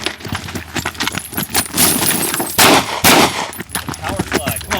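Rapid gunshots from a competition race gun at a practice shooting drill, sharp cracks fired in quick strings with a loud double burst midway, plus clinking and faint talk around them.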